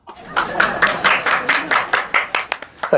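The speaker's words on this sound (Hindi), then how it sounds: "तालियां।" A small group claps in a steady, rhythmic beat of roughly a dozen sharp, close claps over a few seconds, heard alone without voices.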